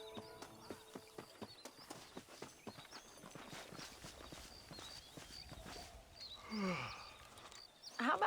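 Horse hooves clip-clop at a steady walking rhythm in Red Dead Redemption, fairly close and clear for about three seconds, then fading into softer, irregular steps with quieter ambient noise and a few bright chirps near the end.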